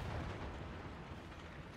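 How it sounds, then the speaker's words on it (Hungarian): A tank blows up in the War Thunder video game, a loud, sustained blast of deep rumbling roar that holds steady for nearly two seconds with no voices. "Ő robbant a kis nyomorult."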